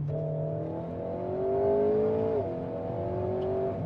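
An Alpine A110S 292 hp sports car engine revs up in a long rising whine, drops briefly as it shifts, then keeps pulling steadily.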